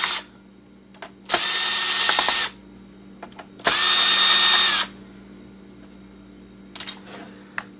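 A power drill removes screws from an old laptop, giving two loud whirring bursts of about a second each between quieter clicks and handling noise, close up with no talk.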